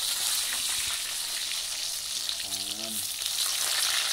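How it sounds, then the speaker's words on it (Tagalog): Fish fried in a pan for a simple home-cooked dish, sizzling steadily and loudly with a dense crackle. A brief spoken word sits over it, and a short tonal sound cuts in near the middle. "habang siya po yung nagpipirito pa ng isda"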